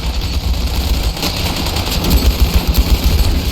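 Dense gunfire in the game Ravenfield, set in World War I trenches, with machine guns and rifles firing continuously. The bursts are loud and close and fill the whole stretch, with heavy low thumps and no talk.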